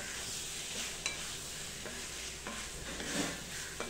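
Boiled potatoes stir-fried in a pan give a soft, steady sizzle, broken by occasional light scrapes and taps of a spatula against the metal, close up and quiet, with no talking.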